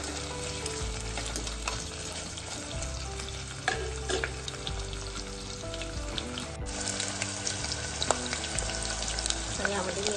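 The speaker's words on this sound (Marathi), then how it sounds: "त्याला चांगलं फ्राय करून घ्यायचं." Long-cut potatoes frying in a pan as a vegetable pulao is cooked, giving a steady close sizzle with occasional stirring clatter, loud and continuous throughout with no talk.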